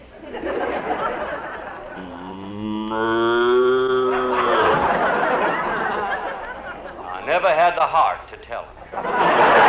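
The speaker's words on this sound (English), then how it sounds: "cow everywhere." Cattle moo in a Western radio drama: one long, drawn-out bellow rises over a busy mix of voices and chatter, with more lively voices and laughter around it.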